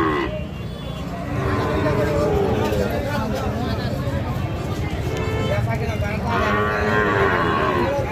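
A Sahiwal bull calf about six to eight months old moos loudly and close by in a busy livestock market, the long low calls mixed with crowd babble and nearby voices.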